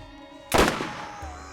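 Gunfire and explosions in the video game Borderlands: one sudden loud blast breaks a low hum, then its boom trails off and rumbles for about a second, with no talk over it.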